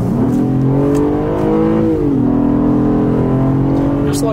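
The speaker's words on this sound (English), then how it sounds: "You can probably hear that six cylinder from outside or from inside the cabin." A 2019 Acura TLX A-Spec's V6 engine pulls hard in Sport Plus mode, its pitch climbing then dipping as it shifts, loud and close from inside the cabin.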